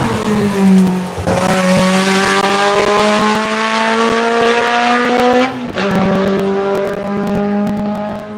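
A race car corners hard through turn one during a lap event, its engine holding a loud, steady harmonic drone. A brief lift and shift interrupts it before it pulls again, with tire squeal underneath.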